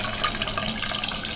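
Tap water runs steadily into a sink while a makeup brush is rinsed clean, a continuous close splashing hiss with no talk.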